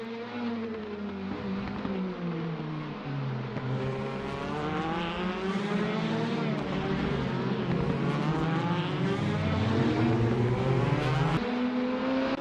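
Caterham 420R race cars lapping Cadwell Park, loud continuous engine roar with rising and falling revs as several cars pass close by, no talk.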